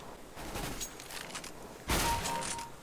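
A single sharp gunshot bursts out near the two-second mark in CS:GO, loud and close over a low game ambience, with faint scattered clatter before it.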